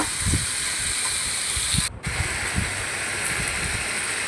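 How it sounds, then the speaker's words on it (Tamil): Potatoes sauté in a pan for a potato and broccoli gravy, giving a steady broad hiss that runs almost the whole time. Soft low thumps of stirring sit underneath, and there is a brief gap near the middle. "நல்லா வதங்கட்டும் கொஞ்சம் உருளைக்கிழங்கு"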